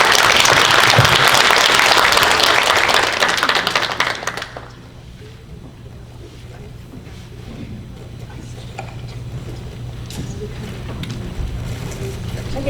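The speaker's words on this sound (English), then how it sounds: "So let's give another round of applause." An audience at the 2023 ACELing in Leadership Conference claps loudly for about four seconds, then the applause cuts off and low room noise follows.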